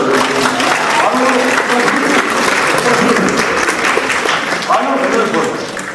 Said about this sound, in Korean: 여러분 박수를 좀 쳐주세요